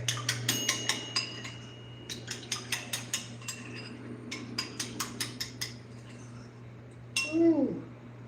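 A whisk clinks against a bowl in a home kitchen, a brisk series of light metallic taps in short runs, moderately close over a steady low hum, with a brief voice near the end.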